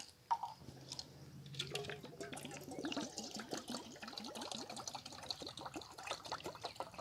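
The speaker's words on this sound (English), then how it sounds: "we're going to put a cup's worth of coffee in here" Coffee poured into a camp mess kit during a cooking test with an old Theroz stove, a steady liquid trickle and drip lasting several seconds, close and fairly quiet, with a brief knock at the start.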